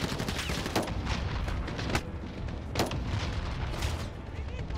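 Gunfire in the Call of Duty video game: dense bursts of rapid shots and sharp cracks at a moderate level, with several louder bangs standing out over the continuous clatter.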